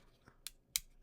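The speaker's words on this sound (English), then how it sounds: "I'm just clicking." Sharp plastic clicks from a 3D-printed folding utility knife being flicked open and shut, three quick snaps with the last loudest, close up and with no talk.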